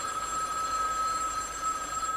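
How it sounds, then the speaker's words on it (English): A telephone rings with a steady electronic bell tone that holds continuously and fairly loud throughout, with no talking. "Till the phone rings"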